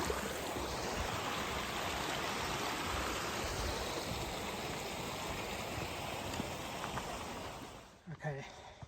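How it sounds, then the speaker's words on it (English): Mountain stream near the Mount Elbert trailhead in Colorado, a steady broadband rush of flowing water heard close and continuous, ending with a brief rustle. "Some streams."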